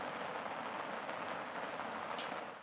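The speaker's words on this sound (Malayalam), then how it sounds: "മഴ തുടരുകയാണ്." Heavy monsoon rain falls steadily in Kerala as a dense, continuous hiss with scattered droplet ticks, fairly even in loudness throughout.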